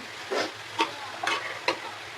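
Pomfret (bhola fish) fries in hot oil in a pan: a soft continuous sizzle broken by four crisp bursts of spattering, spaced about half a second apart, with no talking.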